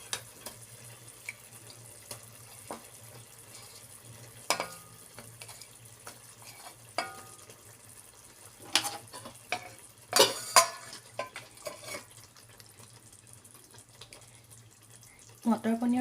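Paneer cubes cook in hot oil in a pan while matar paneer is being made. A faint sizzle runs under scattered spoon scrapes and stirring clicks, with some speech.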